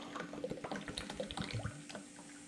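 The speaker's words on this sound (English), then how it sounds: "So we can just pour the rest in now." Liquid glass epoxy resin poured from a mixing container, a gentle trickling and splattering stream with small irregular drips, quiet and continuous over a faint steady hum.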